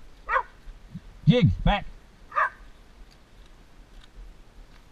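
Ranch dogs on a working cattle ranch give a few sharp barks in short bursts nearby, while a man calls out commands between and over them.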